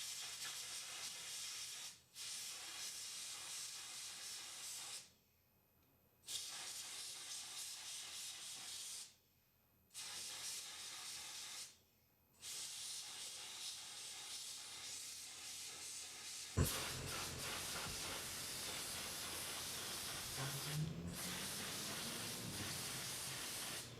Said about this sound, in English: we're going to want to spray a light coat on and let it flash